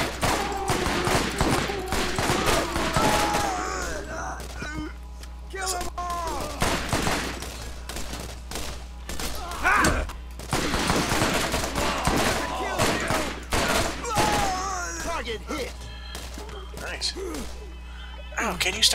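Rapid bursts of gunfire from the video game Borderlands, loud and near, repeating throughout with crashes and thuds, under ongoing talk from a player.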